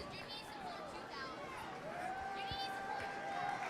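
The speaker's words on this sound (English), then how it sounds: "that crowd from Post Falls is just giving it to GP" A Post Falls football crowd jeers and shouts at a game, picked up from field level as a loose, continuous roar of many voices with a few whistles rising above it.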